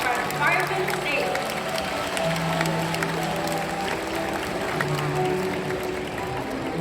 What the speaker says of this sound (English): let's take a moment and give a round of applause to these amazing birds